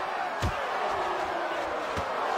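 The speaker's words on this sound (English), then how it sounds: "You can hear the crowd roar." Crowd roaring in the Fight Night Round 3 boxing video game, a steady broad wash of cheering that fills the whole stretch, with a few sharp punch-like thumps cutting through it.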